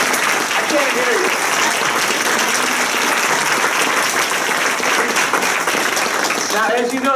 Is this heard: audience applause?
yes